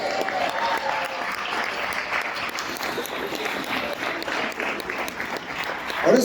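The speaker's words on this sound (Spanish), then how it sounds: "Denle un aplauso al Señor." Church congregation breaking into steady applause for the Lord, a dense sustained clapping that holds at an even level throughout, with a faint voice briefly audible near the start and a louder burst at the very end.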